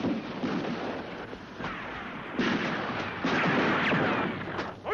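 Battle scene from the 1979 film Riel, with continuous gunfire and artillery rumbling under a windy, noisy wash, heavy booms and rattling shots swelling and fading across the scene, and no voices over it.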